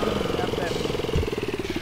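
A motorcycle engine in GTA Brasil on a motoboy delivery mission, idling with a steady pulsing putter, close and fairly loud, with someone talking over it.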